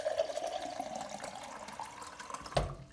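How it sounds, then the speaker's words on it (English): Tap water pours into a 20 oz stainless steel tumbler, a steady close stream whose pitch slowly rises as it fills, then cuts off with a short splash near the end. "I'm going to fill it up with water."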